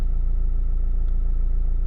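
Dacia 1.5 dCi diesel engine idling steadily with a low, even rumble and no other sounds, close and constant throughout.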